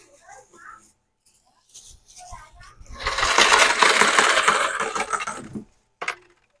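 Coins drop and clatter out of a timer unit converted to a coin changer, a burst of metallic jingling that swells and fades over a few seconds, with a person speaking before it.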